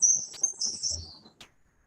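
A bird chirps outdoors in a short, high, bright twittering phrase that trails off, close and clear with no voices.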